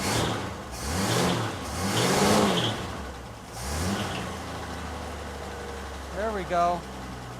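A 1963 Econoline pickup engine with a carburetor being adjusted revs up and down in several rising-and-falling surges, then settles into a low, rough idle, while someone talks over it.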